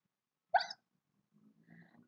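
A single sharp hiccup in a children's story about an elephant, likely a voice imitating it, followed by a faint low murmur.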